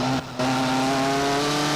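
TVR Tuscan race cars accelerating hard out of a corner at Castle Combe in 1999, a loud sustained engine drone with steady harmonic tones that briefly dips then resumes at full throttle, no voices.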